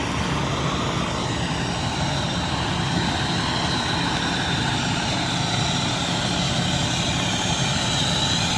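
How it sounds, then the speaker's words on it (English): A heavy-duty tow truck engine idles steadily on scene, a constant droning rumble with no breaks, at moderate distance and without talk. "Desert Valley tow truck just showed up on scene, and it looks like they have like a heavy duty tow there"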